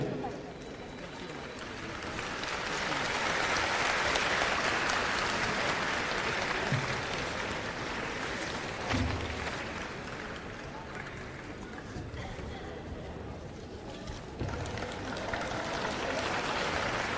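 An audience applauds pilgrims bound for Dwarkadhish as they are welcomed on stage, broad sustained clapping that swells and holds, with a voice speaking over it at times.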